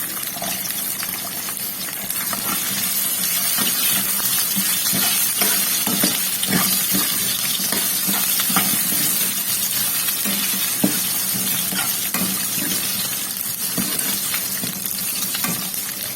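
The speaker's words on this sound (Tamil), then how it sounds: "தேங்காயை வதக்கி விட்டு போட்டிங்கன்னா அவ்வளோ ருசியாக இருக்கும்" Grated coconut and onion sautéing in a pan for an egg kurma, with a dense, steady frying hiss and repeated spoon stirs, close and fairly loud, and no voices.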